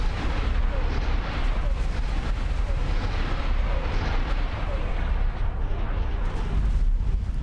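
Star Destroyer broadside fire in the space game X4, a dense, continuous roar of heavy cannon blasts and rumbling explosions, loud and unbroken throughout with deep booming low end.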